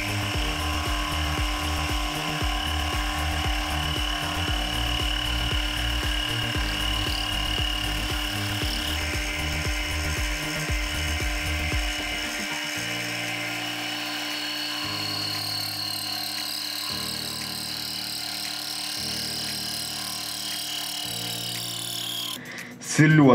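A power tool grinds the end face of metal stock in a home workshop, a steady loud whine running throughout, with the motor note shifting and pulsing in the second half before a sharp final burst.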